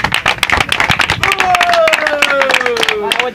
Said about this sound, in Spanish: ¡Aplausos, oh, muchachos!